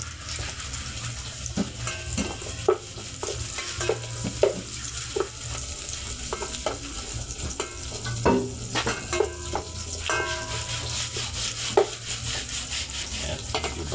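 Ginger for chicken tinola sautés in a hot pan: a steady sizzle runs under frequent sharp scrapes and clinks of a utensil stirring, with running water in the background and no talking.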